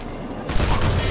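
A sniper rifle in the video game Sniper Elite 4 fires one abrupt, loud shot after a quiet lead-in, and a dense, rumbling echo carries on to the end.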